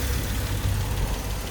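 A 2003 Nissan Elgrand engine idles in good condition, giving a steady, even low rumble that is close and continuous, with no voices over it.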